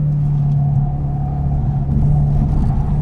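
Car pulling hard on a race track in second gear, a loud steady engine drone heard from inside the cabin with a slight rise in intensity, no voices.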